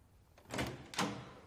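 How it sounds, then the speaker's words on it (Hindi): Two dull knocks land on a door about half a second apart, faint and muffled, with no talk. "दरवाजा क्यों खटखटा रहे हो?"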